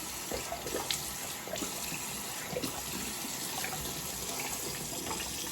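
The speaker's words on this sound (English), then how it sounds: "A quick warm water rinse." Warm water running steadily from a tap during a wet shave rinse, a continuous close splashing flow with small bursts as it hits hands or a sink.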